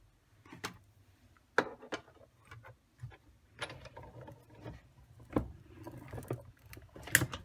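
A manual die cutting machine rolls Crumb Cake cardstock through, making soft creaks, ratcheting clicks and irregular thumps as the handle turns, fairly quiet and close with pauses between bursts.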